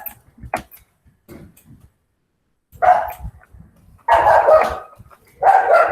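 A dog barks in short bursts, several sharp barks close by with quiet gaps between them, heard alone indoors while work is being done at a computer.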